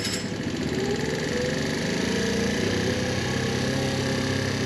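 A Wolf Islander scooter engine runs at a steady idle right after starting, a close, continuous mid-pitched putter with a faint rattle and no talking over it.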